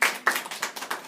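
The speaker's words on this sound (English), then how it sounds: "Give a round of applause to Rihanna." A small audience claps for a presenter, a short burst of several uneven, fairly close hand claps fading over about a second.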